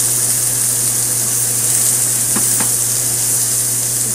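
Pieces of steak fry in a hot pan, making a loud, constant sizzle over a low steady hum, with two quick scraping clicks near the middle as the pieces are moved.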